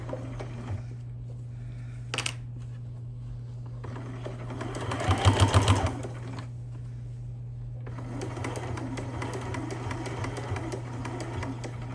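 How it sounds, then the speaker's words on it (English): A sewing machine stitches along the edge of a small fabric earbud pouch. A steady mechanical hum rises into a short, louder burst of rapid stitching near the middle, then settles back to a quieter run, with no talking. "And then I'm going to stitch to the edge."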